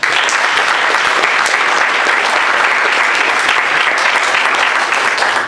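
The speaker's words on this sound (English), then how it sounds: "I'd like to give you a round of applause right now." Steady applause from a crowd at a candidates' forum in San Angelo, dense clapping that holds at an even, loud level throughout without any pauses.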